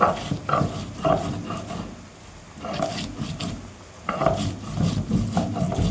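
Roasted pointed gourd being mashed by hand in a kitchen, with irregular soft rubbing and squishing bursts, close and moderately loud, pausing briefly before resuming.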